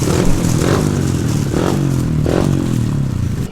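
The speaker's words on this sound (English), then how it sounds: "we're gonna have a little fun on the pit bikes" A pit bike engine revs hard on a dirt track, rising and falling in repeated throttle blips. It is loud and close, with a rattly mechanical edge and no voices.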